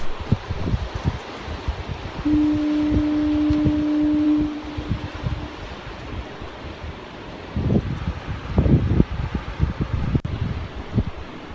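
A deep, steady foghorn blast sounds in the distance over wind and rustling, with a second fainter low tone, on the coast of southern Vancouver Island.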